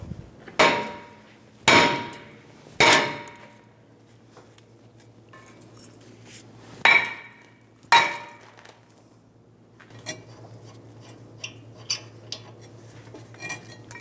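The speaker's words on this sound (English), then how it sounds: "when I hit this rotor with a hammer" A hammer strikes a rusty front brake rotor on a 2015-2024 Jeep Renegade hub with five loud, ringing metallic blows at irregular intervals, followed by quieter clinks and faint shop hum.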